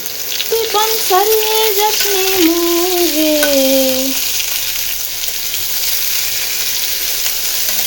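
Dried red chilies and panch phoron fry in hot oil, a loud, close, continuous sizzle; a voice speaks briefly over it near the start, then the hiss continues alone.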